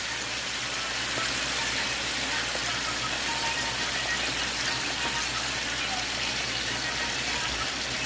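Sweet peppers and other vegetables caramelizing in a pan for an Italian sausage breakfast casserole give a steady, even sizzle with a low background rumble and no talk.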